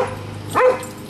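An elderly dog of at least 15 years gives a single sharp bark close by, rising then dropping in pitch, over a low steady room hum.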